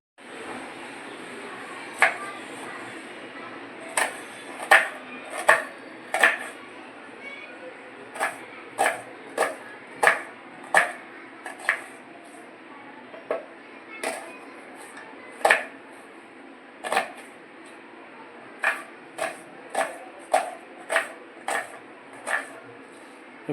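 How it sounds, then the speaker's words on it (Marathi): Knife chopping onions and tomatoes on a board in a home kitchen while making prawn fry and curry, a series of sharp, close, fairly regular chops with brief pauses between bursts, over a low background hum and faint talk. "तर पहिल्यांदा आपण कांदे आणि टमाटर कापून घेऊया"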